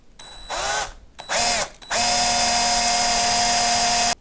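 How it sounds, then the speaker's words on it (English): A power drill with a 4mm bit drills out a fret marker in a guitar neck, with two short whirring bursts followed by a longer steady high-pitched run, close and loud with no talking. "I'm just going to start off by drilling this out with a 4mm drill bit"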